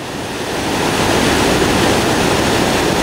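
Turbulent water rushes in a loud, dense wash as a Streamline RC Thrasher jet boat goes over a roughly 12-foot waterfall, the roar swelling up within the first second and holding steady.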